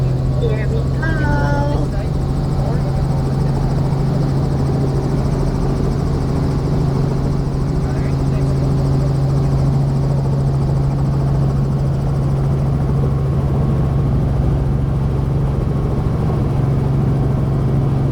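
Helicopter in flight over Boracay Island, heard from inside the cabin as a loud, constant rotor and engine drone with a steady hum that dominates throughout.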